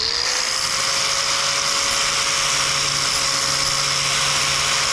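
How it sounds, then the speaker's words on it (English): A Metabo angle grinder with a flap disc runs continuously at a steady high whine, loud and close, as it sharpens the edge of a well-worn blade with no pauses. "it's just show you how this flap disc works. Just going to go ahead and throw a nice sharp edge right on this thing here"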